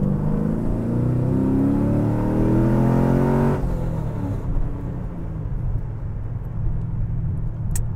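A 2011 Camaro SS accelerates hard, its engine note rising steadily and loud for several seconds before easing off into a lower, quieter rumble.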